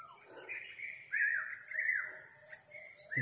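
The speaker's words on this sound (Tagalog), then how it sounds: "May mga ibon tayo narinig." Birds call in several drawn-out whistling notes over a steady high-pitched hum, moderately near, with a soft thump at the end.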